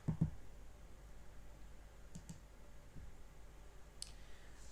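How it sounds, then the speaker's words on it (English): Fingers tapping number keys on a calculator keypad, a few soft, quiet clicks in quick succession at the start, then sparse faint taps over low background hiss. "then just type straight in to the calculator."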